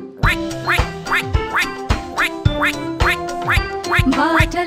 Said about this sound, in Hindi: ये बतख की आवाज है।